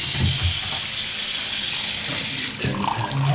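A bathroom sink faucet runs with strong water pressure, a steady loud rushing and splashing that shifts slightly near the end as the flow changes.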